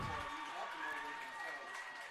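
A home crowd at a high school football game between St. Joseph and Leo cheers and roars steadily in a large, echoing stadium space, with an announcer talking over the noise.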